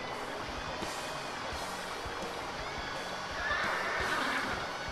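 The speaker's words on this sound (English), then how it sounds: "I have never before seen such a magnificent steed." A horse neighs and whinnies in the Dynasty Warriors 4 video game, a loud drawn-out call over steady battle ambience, rising near the end.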